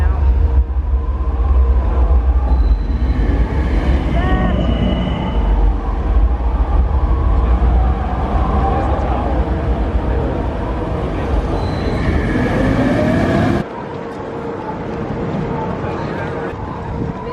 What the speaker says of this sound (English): they'll launch in, like this blue one's gonna launch in and then the other train's gonna launch out